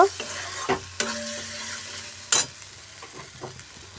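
Mixed vegetables tipped into oil-separated spice paste in a pan for a Bengali mixed-vegetable dish, giving a few sharp clatters and stirring scrapes over a low, steady sizzle, close and fairly quiet.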